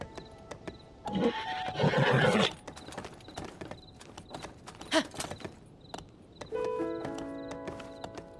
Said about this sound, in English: I don't want my horse to get hurt going down such a steep hill.